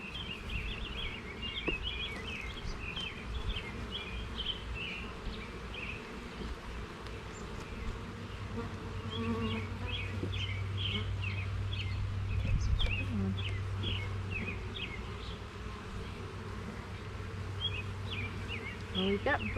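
Honeybees buzz around an open hive holding two queens, a faint, steady hum under the sounds of a beekeeper working, with birds chirping in the background.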